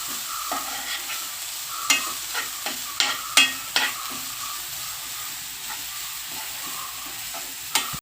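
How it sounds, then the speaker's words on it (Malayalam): Food with spinach-leaf ingredients sizzles in a pan while a spoon stirs it after salt is added, giving soft frying hiss broken by sharp, irregular scrapes and taps against the pan, with no talk. "ഇനി നമുക്കിത് ഇളക്കി കൊടുക്കാം."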